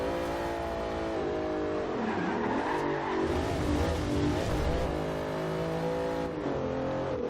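A Bentley Continental GT's engine drones steadily in Forza Horizon 2, running in fifth gear with rising and dipping revs as it pulls along, loud and continuous with no talking.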